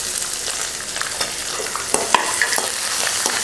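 Sliced onion sautéing with chana dal, peanuts and curry leaves in a hot pan, a bright continuous sizzle broken by frequent scraping stirs and small ticks of the spatula, close and with no voices.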